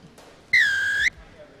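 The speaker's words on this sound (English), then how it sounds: "it's going to be the initial whistle from the referee" A referee's whistle opens a schoolboy rugby match between Lumbini College and Ananda College, one loud, steady blast of about half a second standing clearly above faint crowd and field ambience.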